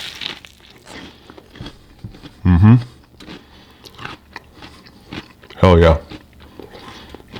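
Two loud, close crunching bites into a peanut butter and pickle sandwich on white toast, separated by a few seconds, with a short spoken exclamation and quieter chewing between them.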